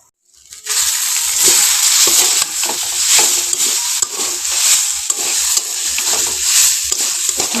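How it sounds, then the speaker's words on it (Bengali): Potatoes sauté with spices in a pan for a Bengali aloo chorchori, giving a loud, steady sizzle with repeated scraping stirs throughout. "আলুগুলো অনেকটা মশলার সঙ্গে কষানো হয়ে গেছে"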